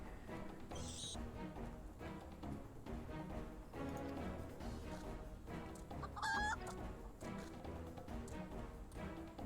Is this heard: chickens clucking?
yes